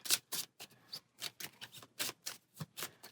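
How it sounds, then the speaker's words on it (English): A stack of D&D Ghosts of Saltmarsh adventure cards is shuffled close up in a rapid series of crisp, rhythmic card slaps and riffles, alone without speech. "Give that a shuffle."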